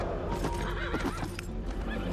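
A horse neighs loudly in a movie scene, a drawn-out whinny with hoof clatter beneath, with no talk over it.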